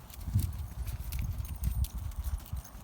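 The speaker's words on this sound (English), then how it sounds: "I'm gonna get this horse trotting" Horse trotting during a training session for the sliding stop, with hooves striking the ground in a steady, fast clip-clop rhythm, close and clear with no talking.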